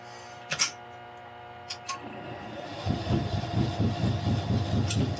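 A wood lathe turning a Swedish torch log set in epoxy resin at very slow speed. A few light knocks come first, then the motor starts and a steady, rhythmic thumping pulse runs to the end.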